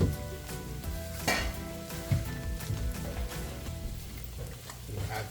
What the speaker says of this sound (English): Mix until you cannot see any white poha left.